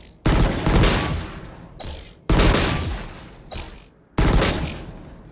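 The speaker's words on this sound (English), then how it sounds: "Oh, it's a burst fire." Burst-fire gun in the video game Valorant fires three loud, dense bursts, each a rapid cluster of shots with a decaying mechanical tail, close and dominant with no talk.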